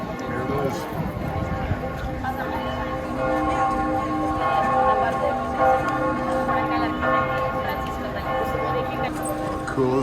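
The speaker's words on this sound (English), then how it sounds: "How cool is that to be walking into the front of the Duomo at 12 noon exactly, as the bells are tolling" The bells of Florence's Duomo, the cathedral built between 1296 and 1436, toll at noon with a continuous, ringing overlap of tones, heard amid crowd bustle and footsteps while people talk nearby.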